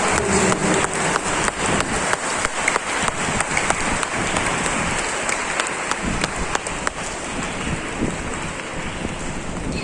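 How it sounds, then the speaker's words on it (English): Sustained applause from a large audience at a school investiture ceremony, a dense steady clatter of many hands clapping for the full length without a break. "Please give them a big round of applause to our sisters and teachers for their dedication to your future."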